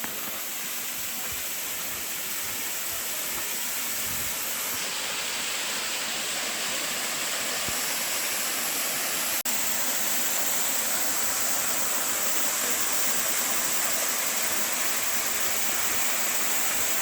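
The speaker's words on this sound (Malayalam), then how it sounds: "ഇത് തന്നെയാണ് വെള്ളച്ചാട്ടം." Kappimala Waterfalls in Kannur, running with modest water, pours as a continuous loud, even roar of falling water close by, unbroken and with no voices.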